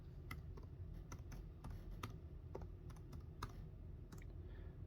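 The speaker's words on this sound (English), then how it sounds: "Let me type in Northridge." Keys clicking on a computer keyboard while a place name is entered into a maps search, a steady run of sharp taps over a low constant hum.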